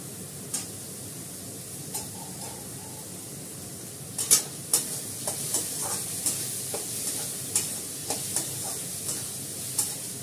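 Small potatoes with turmeric sautéing in a pan, a steady sizzle and hiss with repeated stirring scrapes and occasional clinks of a utensil against the pan throughout.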